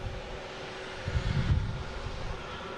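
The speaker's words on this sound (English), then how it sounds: "American 777 heading out here. Be heading to London Heathrow" An American Airlines Boeing 777 departs Boston Logan for London Heathrow, its engines making a low, steady rumble that briefly swells in the middle of the short stretch, heard from a distance without voices.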